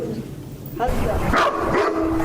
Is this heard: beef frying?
no